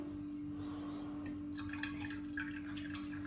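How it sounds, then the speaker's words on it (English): Milk pours into a saucepan, a soft liquid splash and trickle starting partway through over a steady background hum, close by. "Add milk in our saucepan."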